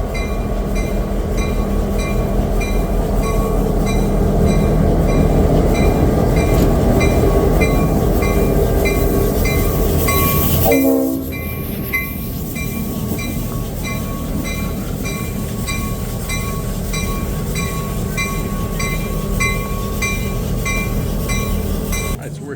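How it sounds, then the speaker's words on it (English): GSMR steam engine 1702 coming down the track on a Tuckasegee River excursion, a loud continuous rumbling roll with clattering wheels and a brief squeal partway through, the noise steady and close throughout. "We got an engine coming down the track."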